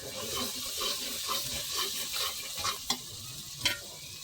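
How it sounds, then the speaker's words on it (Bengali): Spice paste of turmeric and salt stirred and fried in a pan for a rui fish curry, a soft continuous sizzle with rhythmic scraping strokes and a few sharper clinks of the spoon against the pan. "এখন আমরা মশলাটাও সুন্দর করে কষাই নেব।"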